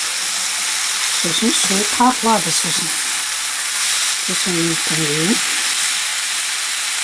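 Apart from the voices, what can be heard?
chicken meat frying and sizzling in a pan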